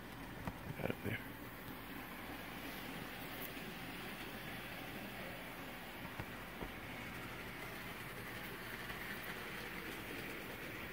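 An Athearn John Deere N scale model train locomotive runs on its track pulling cars uphill, giving a steady close whirring rumble with light clicks and a few brief knocks, continuous throughout.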